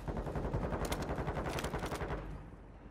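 Rapid automatic gunfire rattles in the video game Warzone 2.0, a dense burst of shots at close range that cuts off and fades into a short tail.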